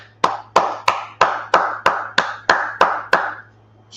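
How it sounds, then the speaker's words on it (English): Group clapping in unison at a history class, about ten sharp, evenly spaced claps in a steady beat, each ringing briefly in the room before the next, then stopping. "All right, we're going to clap it up."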